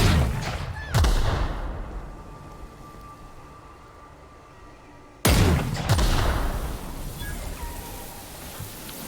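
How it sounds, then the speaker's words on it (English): A grenade from a heavy weapon goes off in The Outer Worlds: two loud, booming blasts about four seconds apart, each trailing into a rumbling, crackling decay, with no talk. "So, okay, it's a grenade."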